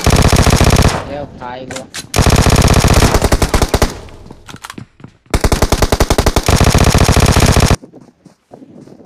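Rapid automatic gunfire in the mobile battle royale game PUBG Mobile, loud bursts of machine-gun fire repeating over several seconds with brief pauses, a short spoken line mixed in before it drops to quiet background.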